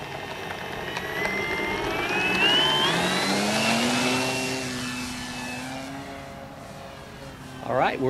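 Great Planes Gee Bee Tx-R radio-controlled airplane taking off at a flying field, its engine note rising in a steady climbing whine that peaks and then fades as it pulls away into the distance.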